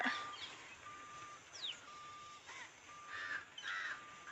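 Several harsh crow caws ring out at intervals over a faint outdoor village hum, crows feeding on sprouted wheat nearby, with a few thin chirps from other birds.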